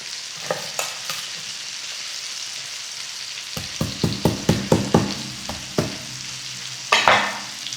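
Rib eye steak frying in a pan with crushed garlic and rosemary: a soft steady sizzle, with a run of sharp clinks and scrapes from stirring and basting partway through. No one speaks.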